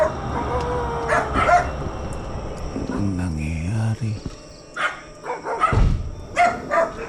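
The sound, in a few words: dogs barking at 2am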